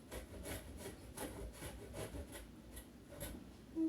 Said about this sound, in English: Remember, that grater can bite you.